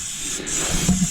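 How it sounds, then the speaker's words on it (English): A spray bottle spritzing cleaner during an oil change and service on a BMW 3 Series F30, a brief close hissing spray over a second, with a soft thump near the end. "So spritz it. Get it good."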